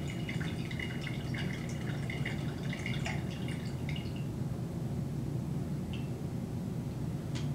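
Salt water being decanted from a small beaker of sand, a steady trickling pour with light drips, heard close and alone over a constant background noise.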